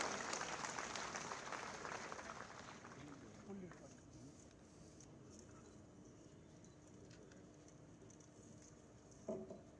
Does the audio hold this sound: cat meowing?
no